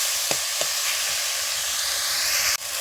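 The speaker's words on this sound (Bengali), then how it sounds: "একটু ভেজে নেব খুব বেশি লতি রান্না করতে সময় লাগে না" Taro stolons (kochu loti) frying in a pan, a loud continuous sizzle and hiss with a couple of brief stirring knocks, close and steady throughout with no talking.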